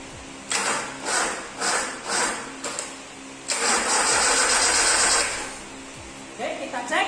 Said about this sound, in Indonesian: Saya akan menghidupkan mesin engine stand Toyota Kijang 5K.